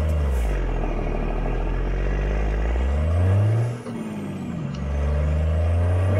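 A truck in American Truck Simulator starting off in first gear, a loud steady low diesel drone that dips briefly at the gear change, then settles back into a deep rumble.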